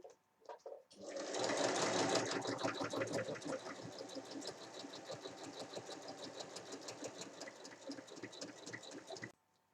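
A sewing machine stitches fabric at a seam allowance of 1 cm. It whirs in a fast, steady mechanical rattle close up for about eight seconds, slowing slightly after the start, then stops abruptly.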